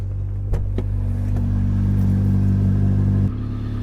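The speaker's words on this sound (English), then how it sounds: "Now we're just going to let this car run for about 15-20 minutes" A car engine idles steadily after a jump start, with a loud, even low rumble close by and a few brief clicks. The engine note shifts slightly near the end, and no one talks.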